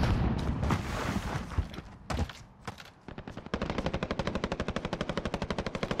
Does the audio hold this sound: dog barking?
no